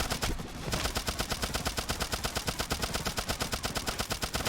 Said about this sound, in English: look for opportunities to take his buddies out so that they're not blasting me on the side while I'm focusing on shooting him